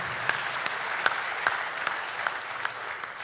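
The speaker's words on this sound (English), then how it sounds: "round of applause for what they were able to do for the industry" Scattered clapping from a keynote audience, a steady patter of hands with a few sharper claps standing out, fairly distant and moderate in volume.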